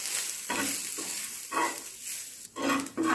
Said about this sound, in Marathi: आता हे सगळं मिश्रण आपण एकत्र करून भाजून घेऊ।